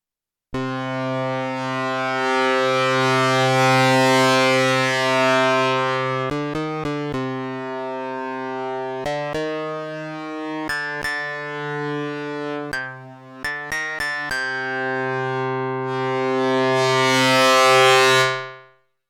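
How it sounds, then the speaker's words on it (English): Bright synthesized plucked and struck tones from a Microfreak or Minifreak physical-modelling oscillator ring out in a sustained resonant wash, punctuated by short bursts of rapid plucks and clicks. "Is all about physical modelling, plucked strings and bonking drum heads and resonances and stuff."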